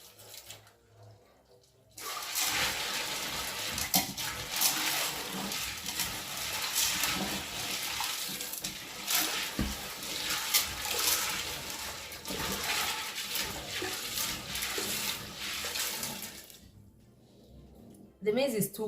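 Dry beans and maize are washed by hand in a container of water, with steady sloshing and swishing close by for most of the span, then a brief pause and renewed splashing.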